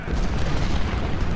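Heavy 24-pounder cannon fire in the Civil War strategy game Ultimate General: Civil War, at the Battle of Malvern Hill: a dense, continuous low rumble of overlapping booms, loud and sustained with no talk.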